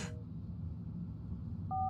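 Telephone dialing in the horror game Cryptic Pursuit: a short electronic dial tone near the end after a quiet low hum, with a brief tone burst at the start.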